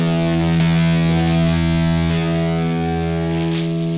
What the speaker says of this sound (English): this is just a range master